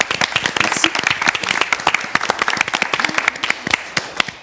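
Studio audience applauding on a French television makeover segment, a dense run of sharp claps close by that fills the whole stretch without pause.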